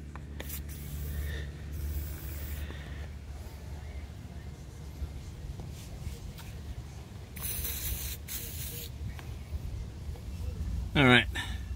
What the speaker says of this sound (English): Heavy duty silicone spray lubricant.